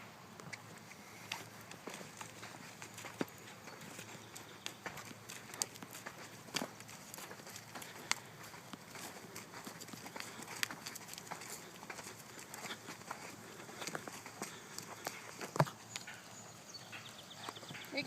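A horse being led at a walk and trot for showmanship, with soft, fairly quiet hoof falls on the ground in an irregular rhythm against a low background hiss.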